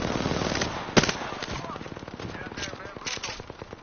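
Rapid automatic fire from a minigun in the Apex Legends battle royale, sustained rattling bursts with a sharp loud shot near the start and more bursts later, under a player's talk.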